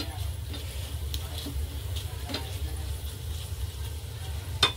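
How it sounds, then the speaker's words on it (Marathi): Steady soft sizzling of spices tempering in hot oil for raw mango kadhi, with faint scraping of a spoon stirring the pan and a couple of light clicks. "आपली फोडणी मस्त अशी हलवून घ्यायची"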